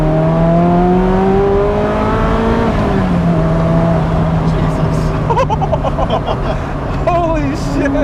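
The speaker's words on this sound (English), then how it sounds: "my number 3 car I've ever driven is a Ferrari F40" A Ferrari F40 engine revs hard while driven, rising and falling in pitch with a loud, sustained roar and higher rasping bursts toward the end, with people talking over it.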